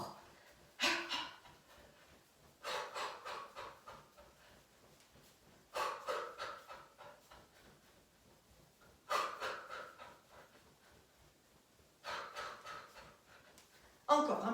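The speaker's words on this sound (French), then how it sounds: "Soufflez fort." Forceful exhalations during a De Gasquet back-focused exercise session, heard as five or six strong, breathy blows spaced a few seconds apart, each rising and fading, with a softer intake of breath between them.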